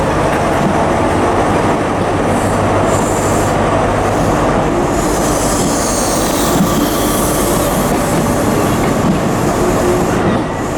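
A diesel high-speed train power car, class 43 with Mark III coaches, rumbles loudly past up close at Aberdeen station, a dense continuous roar of engine and rolling wheels with faint metallic squeals on top.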